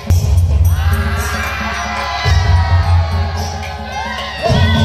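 A large street crowd cheers at a Dahi Handi festival in Dombivli, a dense mix of shouting and whooping that carries on steadily, with heavy low drum-like thumping underneath.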